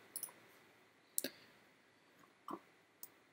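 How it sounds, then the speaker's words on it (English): Sharp computer mouse clicks while placing objects in the Coralize tool, a handful of separate dry clicks spaced unevenly, some doubled, close and quiet over a near-silent background. "so I click there and I'm clicking over this wall"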